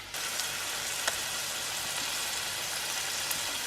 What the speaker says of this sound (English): I don't know if you can hear sizzling because I'm making dinner